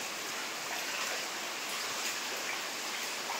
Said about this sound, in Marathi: पाणी आतमध्ये गेलेलं आहे